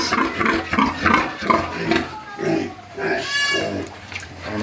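A heavily pregnant sow grunts over and over in low, rhythmic snorts, loud and close on a farm, with a higher squeal rising near the end.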